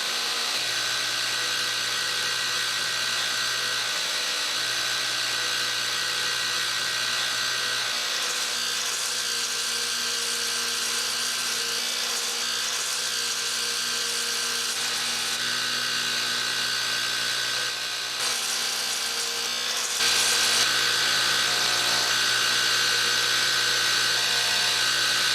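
An Electro Arc Model 2-S machine runs continuously with a steady mid-level electrical hum and sustained tonal whine, with occasional brief shifts and crackly bursts, no voices.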